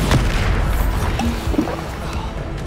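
A Bombarda spell in Hogwarts Legacy lands as a heavy, close boom. Dense crashing rumble follows and stays loud to the end, with clatter and other game effects layered in.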